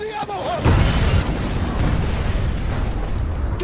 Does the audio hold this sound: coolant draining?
no